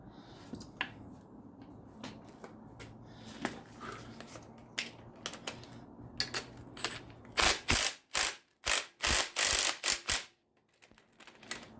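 Ratchet working loose the bolts on a rear strut assembly of a 2004 Oldsmobile Alero, with scattered clicks early on, then a loud run of rapid ratcheting bursts up close.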